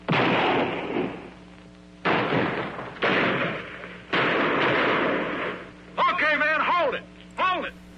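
Loud bursts of gunfire come in several sustained, noisy volleys, and a voice breaks in between the later bursts.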